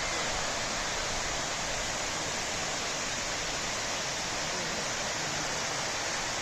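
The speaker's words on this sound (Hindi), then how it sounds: "बहुत सुंदर वाटरफॉल है। आपको पानी की आवाज़ें आ रही होगी बहुत ही कलकल करती।" Waterfall on the Chandraprabha river with water babbling and rushing, a steady dense roar filling the whole stretch without pause, loud and continuous with no voices.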